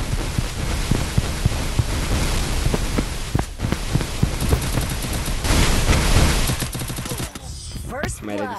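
Rapid gunfire in the Free Fire battle royale game, dense clusters of sharp shots over a noisy, rumbling background, loud and continuous, with a voice faintly present.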